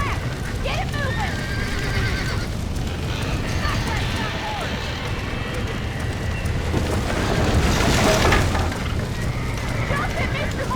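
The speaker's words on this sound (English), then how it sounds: "Get that horse back! Get it moving!" Horses gallop with steady clip-clop hooves and loud whinnies in the Western video game Red Dead Redemption, mixed with wind and shouted voices throughout.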